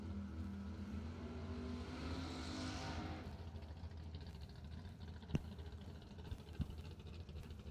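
Drag race dragster engine at a warm-up event, a loud sustained roar near the tire lane that fades after a few seconds into a lower rumble, with a couple of sharp bangs.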